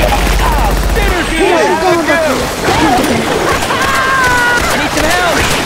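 Gunfire rattles in rapid bursts in the zombie shooter video game Left 4 Dead 2. Excited players talk and shout loudly over it throughout.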